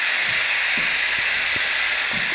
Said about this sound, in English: let's go ahead and finish with a quick pressure release